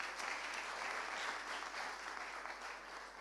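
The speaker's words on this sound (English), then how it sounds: "Let's give her a round of applause." A church congregation at a Sunday service gives a steady round of applause for a birthday, even clapping from the room, moderately quiet and sustained.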